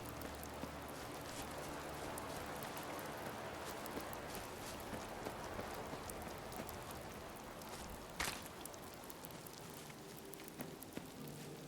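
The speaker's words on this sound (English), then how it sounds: "Nice rainy day." Steady hiss of rain falling in the Fallout 4 video game, an even, soft patter with scattered drops and one brief louder knock partway through, no talking.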